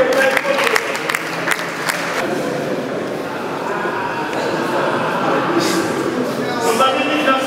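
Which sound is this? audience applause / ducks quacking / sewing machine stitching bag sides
audience applause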